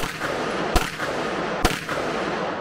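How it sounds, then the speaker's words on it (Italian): Two sharp gunshots about a second apart, loud and close, over a steady noisy background at a shooting range. "primo sparo con la Deria"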